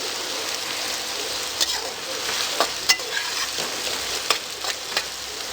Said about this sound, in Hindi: इसको 5 मिनट के लिए हमने भूनना है।